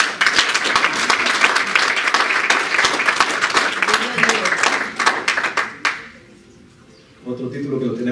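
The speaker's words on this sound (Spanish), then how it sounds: "fuerte aplauso" A church congregation bursts into loud, dense applause that holds steady for about six seconds, then cuts off abruptly into near quiet before a voice speaks briefly at the end.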